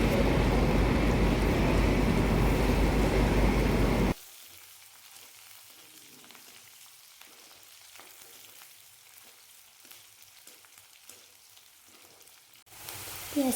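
Onions and green chillies hit hot oil with a loud, dense sizzle for about four seconds, then the frying drops to a faint, soft crackle for the rest of the clip.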